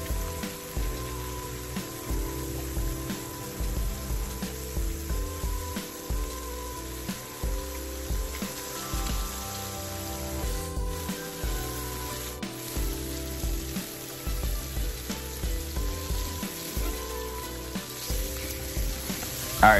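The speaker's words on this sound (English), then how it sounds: "you're gonna wanna cook your bacon to your liking" Bacon frying in a pan for a quesadilla burger, a dense continuous crackling sizzle with rhythmic low pulses throughout, close and steady, no talking.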